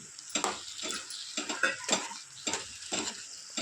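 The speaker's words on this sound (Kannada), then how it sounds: "ಈಗ ತುಪ್ಪ ಮಿಕ್ಸ್ ಮಾಡಿ ಎಲ್ಲ ಮಿಕ್ಸ್ ಮಾಡ್ತಾ ಬರಬೇಕೀಗ." A spoon stirs pepper rice with ghee in a pan over a low gas flame, making soft rhythmic scrapes and clinks against the metal over a faint sizzle, with no talking.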